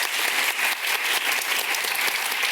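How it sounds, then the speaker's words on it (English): Audience applause at a healthcare pitch event, dense and steady throughout, a full crowd clapping loudly without pause. "Give a big round of applause to our Tony."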